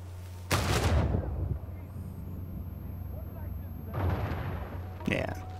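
Two loud, deep bomb blasts from Uncharted 4 go off a few seconds apart, each with a rumbling tail. A sharper crack comes near the end, and a voice talks between them.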